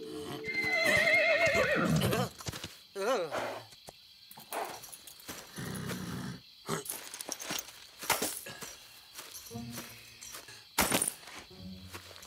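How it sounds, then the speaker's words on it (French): Horses neigh and whinny loudly at the start, followed by scattered hoof clip-clops and clatter as riders hurry to mount during an animated Zorro chase. "Rattrapez les chevaux!"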